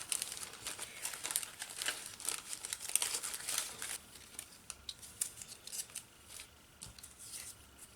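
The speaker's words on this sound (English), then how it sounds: "And again, cut the corners, maybe the roses." Scissors snip through a paper napkin, trimming the corners for a journaling card: a close run of quick crisp cuts with light crinkling of the paper, thinning out to sparser snips.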